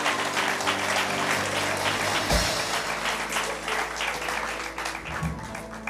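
A church congregation applauds to acclaim the Lord, with dense, sustained clapping that carries on steadily for several seconds and a thump partway through.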